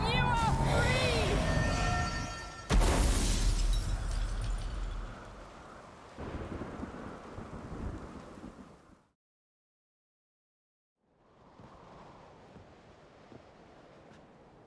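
Rumbling thunder and heavy rain from a storm in the video game The Witcher 3, loud and dense at first, then easing off, cutting to silence, and returning as a softer wash.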